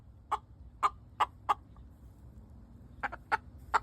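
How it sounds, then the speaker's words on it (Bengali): A chicken clucks in short, sharp bursts, four evenly spaced clucks, a pause, then a quicker cluster of three or four more, fairly close and clear over a quiet low background hum. "মুরগি,"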